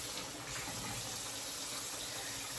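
Tap water runs steadily from a faucet as a sponge is rinsed out at a sink, a soft continuous splashing gush with no voices.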